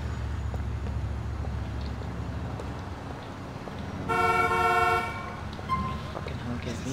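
A video game car horn blares once for about a second amid steady engine rumble and background noise, fairly close and loud.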